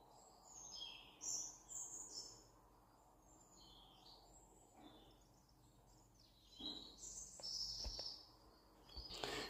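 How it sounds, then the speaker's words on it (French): Outdoor birdsong with several chirping and whistling calls, faint and somewhat distant, scattered over a quiet background with a few soft rustles. "Et oui, c'est le chant des oiseaux."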